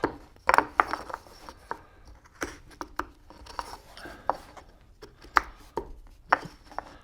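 A knife carves a notch into a piece of wood on a woodworking board, giving a close, irregular series of sharp scraping cuts and knocks with short pauses between them.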